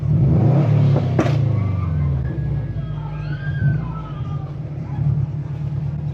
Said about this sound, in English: They said rev it.